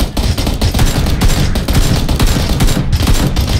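Loud, continuous automatic gunfire from the video game PlayerUnknown's Battlegrounds rattles in rapid bursts for several seconds, close and dense with no pause.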